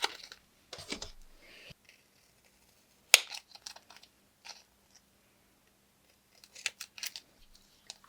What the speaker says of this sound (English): I also like to take my teeny tiny miniature hole punch and cut out the little hole in the packaging.